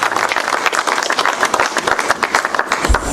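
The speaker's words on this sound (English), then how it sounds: "can we get a round of applause for" Coffee-meetup audience at a startup pitch event claps together in a loud, dense burst of applause lasting a few seconds.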